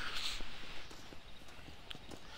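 Horse hooves clip-clop at a steady walking pace in Red Dead Redemption, the regular footfalls moderately close and clear over a soft ambient background with no talking.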